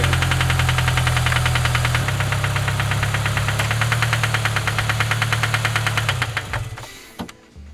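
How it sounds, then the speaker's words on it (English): A turbocharged Subaru BRZ engine with suspected rod knock runs with a rapid steady metallic knocking over a loud droning idle, then shuts off and winds down near the end. "it could be rod knock"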